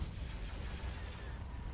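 Starship weapons fire in the space strategy game Forces of Corruption (Empire of the Hand mod), making a dense, continuous rumble of distant booming shots at low level, with no clear breaks.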